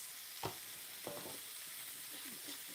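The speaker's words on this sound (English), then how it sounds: "Stir those up so they don't stick." A spoon stirs a pot of simmering yellow grits, giving a few soft scraping strokes over a low, steady background hiss, quiet and close.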